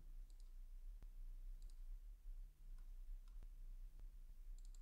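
Computer mouse clicks while working in SolidWorks CAD software: a few sparse, sharp, faint clicks spaced about a second apart over a low steady hum, with no talking.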